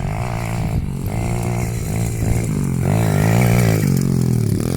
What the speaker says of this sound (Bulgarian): Подобрихме моя мотор.